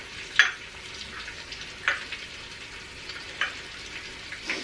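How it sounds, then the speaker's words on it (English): Low, steady sizzling of chicken thighs browning in a hot pressure cooker pot, with a few soft scrapes and clinks of a utensil, no talking. "you can hear that this is now beginning to saute"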